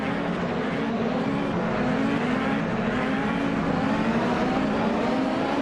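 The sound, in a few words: race car engines in a racing video game, Penske PC23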